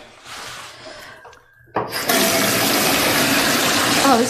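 Water running from a sink tap into a basin, starting with a sudden burst partway through and continuing as a steady, loud, close rush after a quieter stretch of faint noise.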